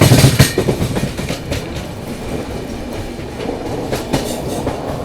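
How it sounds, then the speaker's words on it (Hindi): An AP Express passenger train runs along the tracks with a loud, steady rumble and a rhythmic clickety-clack of wheels over rail joints, heard from on board. "फिर से हमारी ट्रेन चल पड़ी अपनी मंजिल की ओर।"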